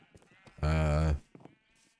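A Minecraft sheep lets out a single loud, wavering bleat lasting about half a second, clear and close, with softer game noises around it.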